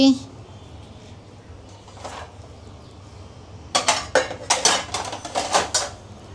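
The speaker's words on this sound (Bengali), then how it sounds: "এখন আমি এটা ঢেকে দিচ্ছি" A lid goes over a cooking pot of beef with a quick burst of metallic clanks and rattles, close and sharp, after a short stretch of quiet talk.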